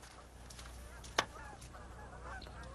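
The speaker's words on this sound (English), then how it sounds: "What I'm going to do now is going to release this duck along with the others that we caught." Released ducks give one sharp, loud honk midway through, standing out above a steady outdoor background with no other calls.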